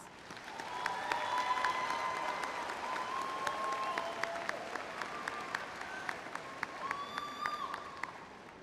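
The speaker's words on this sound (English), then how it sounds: "Let's give all of our graduates a round of applause." Sustained applause from a crowd at a high school graduation ceremony, dense steady clapping for the graduates that swells early and carries on throughout, with a few louder claps standing out.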